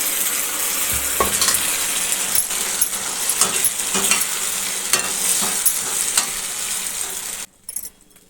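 Turnips fry in a pan under a steady, close sizzle, with repeated scraping stirs of a utensil, until a sudden cutoff near the end leaves a few faint clicks.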